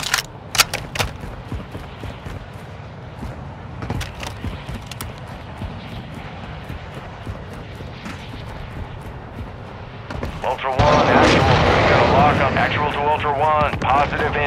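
Explosions as an aircraft is destroyed in Call of Duty: Modern Warfare II: a dense, rumbling battle din with scattered sharp cracks, swelling into a louder, sustained blast and roar in the last few seconds.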